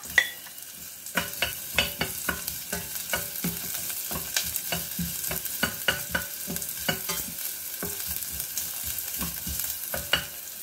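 Onion and ginger sauté in a pan with a steady low sizzle, punctuated by repeated sharp scrapes and taps of a utensil stirring, close and alone without talk.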